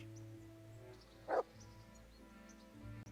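A single short dog bark from the video game Kingdom Come: Deliverance, faint and brief against a quiet low game ambience.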